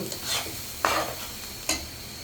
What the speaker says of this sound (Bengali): আমি চাউলগুলো আরও একটু ভালো করে ভেজে নিচ্ছি